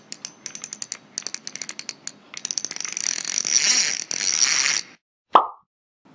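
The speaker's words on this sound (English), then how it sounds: "that was the sound of me reeling in a fish" A fishing reel ratchet clicks in rapid irregular bursts, then runs into a steady buzzing whir as line is reeled in. A single plop follows after a short silence.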